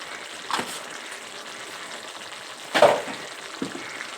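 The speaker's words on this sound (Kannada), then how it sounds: "ಉಪ್ಪು ಹಾಕ್ಬಿಟ್ಟು ಸ್ವಲ್ಪ ಫ್ರೈ ಮಾಡ್ಕೊಂಬಿಡೋಣ" Vegetables frying in a pan with salt and turmeric, a low steady sizzle with a few isolated spoon scrapes, one louder stir near the end.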